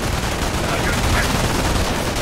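Machine gun fire crackles in the Company of Heroes war game, a dense, continuous rattle of rapid shots filling the short stretch with no pauses.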